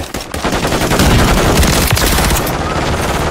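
Dense, sustained automatic gunfire from Call of Duty: Modern Warfare 3, loud and continuous with overlapping bursts and heavy low-end thumps, briefly dipping at the start before rolling on without pause.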